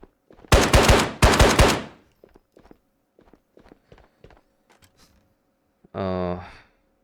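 Two loud bursts of automatic rifle fire from an SKS chambered in 7.62x39 in the game Ghosts of Tabor, each lasting under a second, followed by quieter footsteps and small handling clicks, then a short voiced sound near the end.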